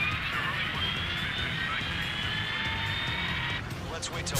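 A helicopter engine spooling up inside the Ace Combat 7 video game, a steady loud whine with rising tonal layers that runs continuously before cutting down near the end.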